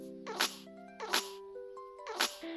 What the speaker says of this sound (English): But instead of grateful squeaks, she heard, achoo!